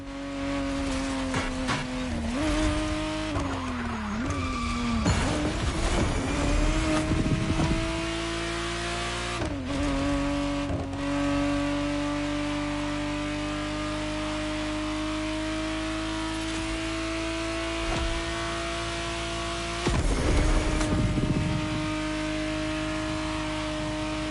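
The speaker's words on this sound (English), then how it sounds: "the exact model MOTORFEST has put in your hands is the 1991 re-engineered version of the Testarossa, introduced as the 512 TR" A 1991 Ferrari Testarossa 512 TR engine in the racing game The Crew Motorfest revs and accelerates through repeated gear changes, with rising and falling pitch, brief tire squeals and loud, close sustained engine tone.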